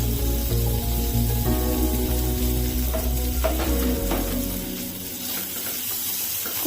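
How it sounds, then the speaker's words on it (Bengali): Chopped onion goes into hot oil already holding black cumin seeds and green chillies in a Bengali kitchen, giving a steady close sizzle over a faint tonal hum, with no voices. "আমি কুচনো পেঁয়াজটা দিয়ে দেবো।"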